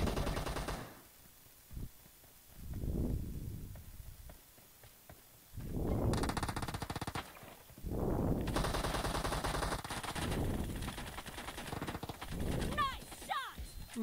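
A Groza rifle fires in an online shooter game in scattered bursts, fairly quiet and partly buried under a person talking throughout.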